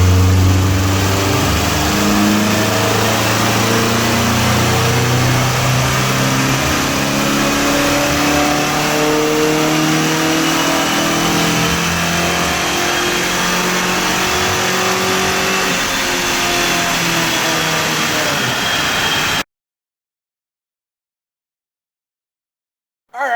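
A Subaru EJ18-engined coupe revs hard on a dyno, engine note climbing steadily and loud for about nineteen seconds before cutting abruptly to silence.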